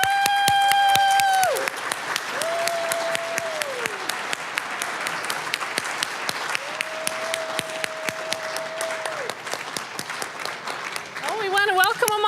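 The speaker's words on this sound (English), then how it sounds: "Let's keep clapping" A crowd applauds medical assistant graduates at a college graduation ceremony, sustained clapping throughout, with a voice talking over it and a steady electronic tone sounding in the background.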